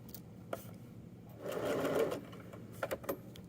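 A sewing machine stitching the waistband of homemade joggers gives a short whirring run of stitches in the middle, set between soft handling clicks and rustles, close up with no speech.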